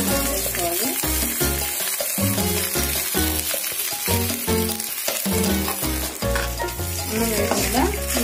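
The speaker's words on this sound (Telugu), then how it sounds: "ఇలా ఒక నిమిషం వరకు ఇలా కలబెట్టుకుంటూ ఉండాలి." Cauliflower rice being tossed and stirred in a hot pan, loud close sizzling with a steady rhythm of scraping strokes and clatter, repeating about once a second, without talk.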